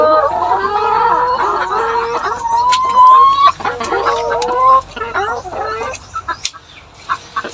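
Hens clucking inside a backyard chicken coop during egg collection, with rapid, overlapping clucks and squawks close by, busiest early on and thinning toward the end.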